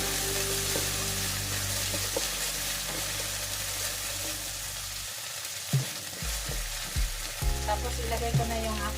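Red onion and garlic sizzle and fry in a pan alongside blue marlin fish, a steady broadband hiss with occasional stirring clatters and low thumps, close and moderately loud with no talking.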